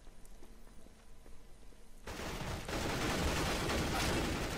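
Gunfire in Counter-Strike: Global Offensive, quiet at first, then a sudden loud burst of rapid shots and fire that carries on steadily to the end.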